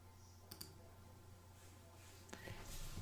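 Computer mouse clicks in embroidery software: a quick pair of faint clicks, then a lone click and a few soft clicks later, all very quiet over low room hum.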